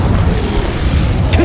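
Incendio fire spell cast in Hogwarts Legacy, a loud, sustained low whooshing roar of flame filling the whole short moment with no break.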